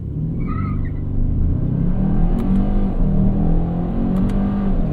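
A 2025 Kia K5 GT accelerating hard in manual mode, a loud, close engine rumble that builds and holds steady over several seconds, with brief high squeals of tire slip breaking through partway.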